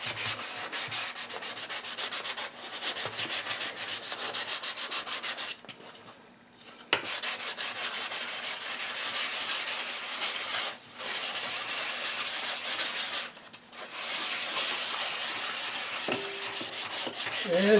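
Steady hand sanding of a wooden spatula, a continuous scratchy rasp with brief pauses between strokes, close up and fairly loud, with no talking.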